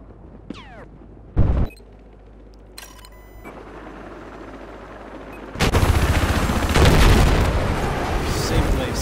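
Gunfire from a loud, unsilenced pistol in the first-person shooter Battlefield 4: a few sharp shots early on, then a dense stretch of heavy firing and booming blasts toward the end.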